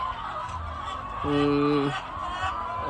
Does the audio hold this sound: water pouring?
no